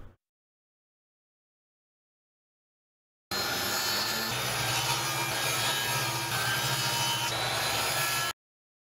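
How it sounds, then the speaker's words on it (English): Leftover wooden frame sides for a diffusion frame are cut to size, steady continuous sawing for about five seconds after a silent start, close and fairly loud. "the sides of the frame can be measured and cut to size"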